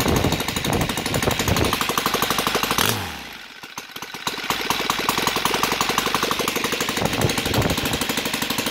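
An OS FT 300 model engine converted to gasoline runs in fast, loud, rapid-fire beats nearby. The revs dip and stumble briefly before settling back into a steady rattling idle.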